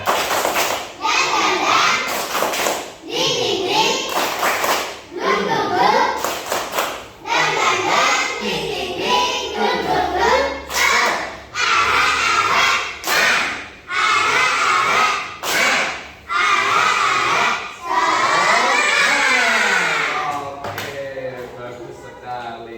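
Primary school children in a classroom perform a rhythmic clapping chant, with sharp bursts of unison claps alternating with loud group chanting in a repeating pattern over about twenty seconds.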